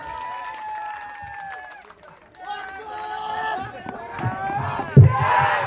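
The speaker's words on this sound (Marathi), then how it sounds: "एकदा जोरदार जोरदार टाळ्या होऊन जाऊ द्या आपल्या सर्वांच्या" A crowd at a Buddhist Dhamma conference roars and shouts, rising into cheering with a burst of clapping near the end, voices layered together in a loud, lively mass.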